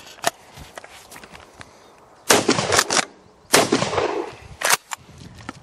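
A shotgun firing Gamebore Mammoth Magnum 3 inch steel shot cartridges outdoors at a country shooting ground: several loud, sharp blasts with decaying tails, spaced irregularly, with quieter handling noises between them.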